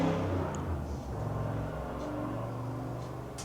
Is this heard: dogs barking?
no